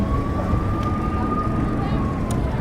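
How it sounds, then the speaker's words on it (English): A faint, steady siren tone runs in the background under loud rushing wind and road noise. "There's also a guy with a siren in the background"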